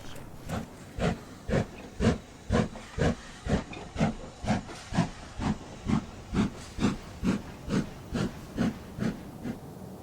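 LMS 4F class 0-6-0 steam freight locomotives on snowplough duty give off steady, rhythmic exhaust chuffs with hissing steam, about two beats per second, loud and close throughout.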